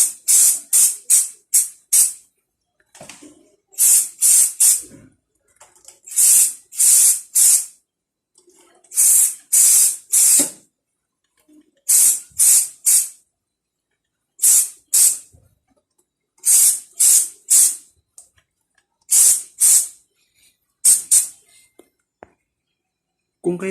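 Aerosol lubricant hisses onto a motorcycle chain in short, repeated bursts of spray that are sharp and close, with brief pauses between them and no talking.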